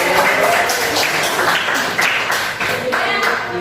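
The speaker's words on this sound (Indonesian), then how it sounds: "Tepuk tangan buat Aurel." A classroom of students applauds a classmate with loud, continuous clapping that stays full and even from start to finish and fades slightly near the end.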